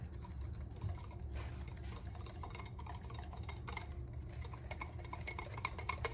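Pink icing with a pinch of salt is mixed in a bowl. Faint, uneven scraping and tapping strokes of a utensil run steadily against the bowl with no talk.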